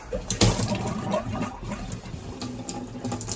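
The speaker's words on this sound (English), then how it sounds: "I'm going to go turn the water back on and I'll check that first." Water rushes and gurgles through household pipes and a tap just after the supply is turned back on, a continuous, fairly loud turbulent flow with sputtering surges and no voices.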